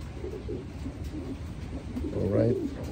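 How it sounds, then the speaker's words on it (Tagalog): Pet pigeons coo softly in a backyard loft, low murmuring calls repeating under steady background noise, swelling louder near the end. "So ito yung mga ibon natin."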